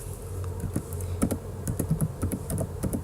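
Typing on a computer keyboard, a steady run of quick, close key taps with uneven rhythm and a few louder strokes, with no talking.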